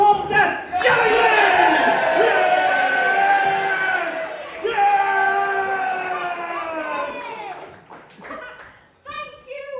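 Live theatre audience at the Waterloo East Theatre yelling in unison during a musical comedy, a loud sustained mass of voices and cheers lasting several seconds, swelling again midway and then fading out.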